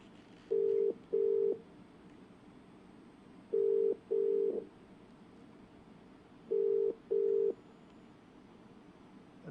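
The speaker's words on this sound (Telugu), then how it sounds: "ఎస్, రింగ్ అవుతుంది." Ringback tone on an outgoing phone call to an MLA's number, heard as three clear pairs of steady electronic double beeps separated by pauses, alone over faint line hiss.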